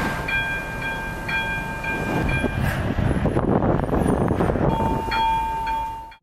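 A train rolls through a railway crossing in Poland, its loud steady rumble and clatter continuous for several seconds, with a sustained horn tone sounding at the start and again near the end.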